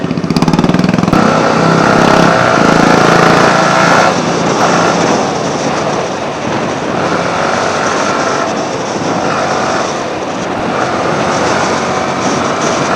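Motorcycles, including a Bullet 350, Pulsar 250 and Yamaha R15 V3, roar loudly and continuously while racing on a road, a dense steady engine drone with no speech.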